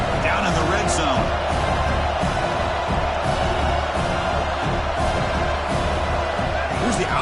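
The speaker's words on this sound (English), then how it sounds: "the crowd coming to life here, trying to help this defense down in the red zone" A football stadium crowd cheers during a game while the defense holds in the red zone, a dense and loud roar that swells steadily under a commentator's voice.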